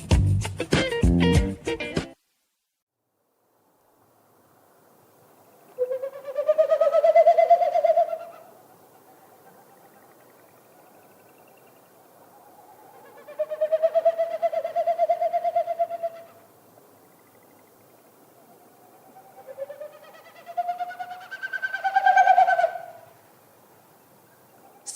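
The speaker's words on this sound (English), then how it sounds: "What you heard is a Wilson snipe doing its territorial sound, but it's made with its wings and its tail." A Wilson's snipe performs its winnowing flight display, a hollow, pulsing whoo-whoo-whoo made by wings and tail, heard as three rising-and-falling bursts several seconds apart, fairly distant over a quiet background after a short opening noise.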